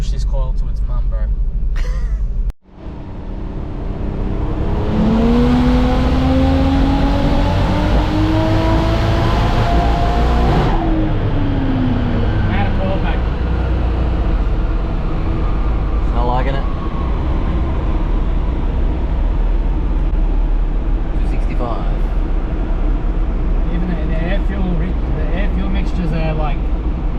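A turbocharged Nissan Skyline R31 engine revs under boost in a loud, sustained rising drone that drops off abruptly, then idles roughly with a person talking over it.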